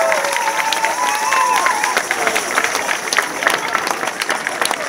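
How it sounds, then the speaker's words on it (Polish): An audience in Poland gives warm applause to the Serbian folk ensemble KUD Šumadija, a dense, sustained patter of clapping with crowd noise, steady and fairly loud across the whole stretch. "gorące, gorące brawa"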